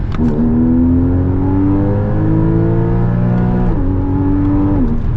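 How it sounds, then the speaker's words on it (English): A Porsche 981 Boxster S accelerating hard from inside, its engine note climbing steadily through the revs, then a sharp gear shift drops the pitch before it climbs again, with a gargling exhaust; loud, close and continuous. "Those gear shifts are violent. Like, seriously, you feel like a punch. It like pushes you forward each shift point. Oh, and it gargles out of the exhaust too."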